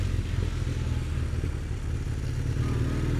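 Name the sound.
Kawasaki Z440 LTD classic motorcycle engine running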